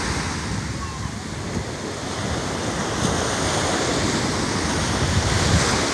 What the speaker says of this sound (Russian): Я просто без ума от этого океана.